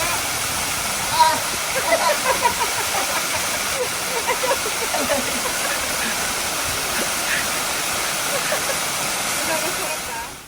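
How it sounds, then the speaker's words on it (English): Ribbon Falls, a waterfall oasis with moss-covered boulders, roars as a steady, dense wash of falling water that holds constant from start to end, with no voices. "The sounds, scents, and cool mist from the waterfall is very soothing."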